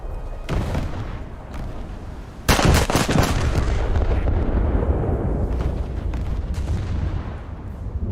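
Naval guns in a warship video game fire with an early crack, then a huge booming salvo that rolls into a long, rumbling roar.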